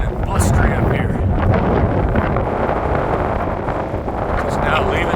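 Cold, blustery wind buffets the microphone outdoors near a rice field shelter, a loud, continuous rumbling roar with gusty swells throughout.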